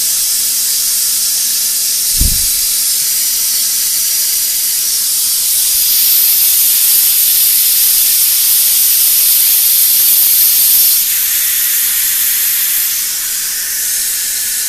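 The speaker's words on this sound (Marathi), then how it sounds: "आता कुकरच्या 4 शिट्ट्या घेऊन" A pressure cooker cooking dal on a home stove vents steam in a loud, sustained hiss that holds steady for the whole stretch, with a brief thump near the start and a slight easing in the final seconds.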